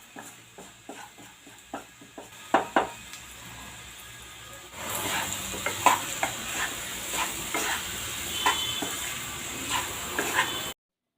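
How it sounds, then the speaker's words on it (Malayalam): Onion, garlic, chilli powder and turmeric sautéing in a pan in a home kitchen: a few sharp spoon scrapes and clicks first, then a louder continuous sizzle with repeated stirring knocks, close by. "ഉള്ളിയും അതേപോലെ തന്നെ വെളുത്തുള്ളിയൊക്കെ ഇട്ടിട്ട് നമ്മൾ മുളക് പൊടിയും മഞ്ഞൾപ്പൊടിയും കൂടി ഇട്ട് അങ്ങോട്ട് മൊരിയിച്ചിട്ട്"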